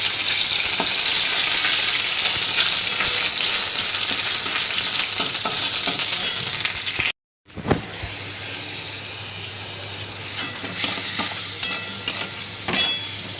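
Whole cumin, chilli and ginger-cumin paste fry in white oil with a loud, dense sizzle, cut by a brief silent gap, then a quieter sizzle returns with scattered stirring clatter.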